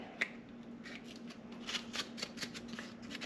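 A half sheet of 320-grit sandpaper is creased and folded by hand, giving a series of close, dry, papery crackles and scrapes in quick irregular bursts, with no talking.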